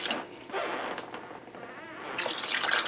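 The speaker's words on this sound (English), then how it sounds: "let's add some more water here" Water is poured into a pot of chicken vegetable soup, a fairly quiet, continuous splashing stream that swells slightly toward the end.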